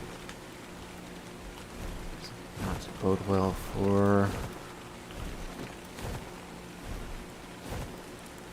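Rain in the video game ARK: Survival Evolved makes a soft, steady hiss throughout, while a player speaks briefly over it.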